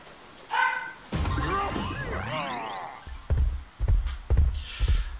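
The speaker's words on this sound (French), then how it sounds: "Le chien qui aboie." Dog barking in Donkey Kong Country Returns: a short cluster of yaps and whimpers, then several sharp barks, all over the game's sound effects and music.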